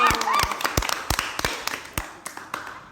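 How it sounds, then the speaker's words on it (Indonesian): Scattered, sharp handclaps from a small audience at a casual Indonesian talk session, a quick run of separate claps that thins out and fades near the end. "tepuk tangan untuk kita semua hari ini"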